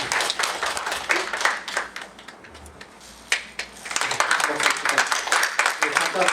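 A church congregation at a Sunday worship service breaks into applause in celebration, a dense burst of clapping that dips briefly midway and then rises again, continuing to the end.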